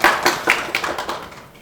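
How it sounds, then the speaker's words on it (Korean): Short burst of audience applause at a discussion forum on organizational culture, a handful of distinct, fairly close claps that thin out and fade within a second or two. "박수 한번 주시죠."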